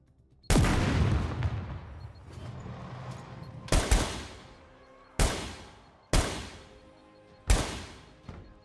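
A zombie in the video game Scum bangs on a metal door: five heavy, sharp impacts at irregular intervals, the first and loudest with a long ringing decay, the others shorter, separated by quieter stretches.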